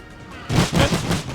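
Artillery fire in The Great War, a brief burst of heavy booming impacts following a quiet lead-in, close and loud.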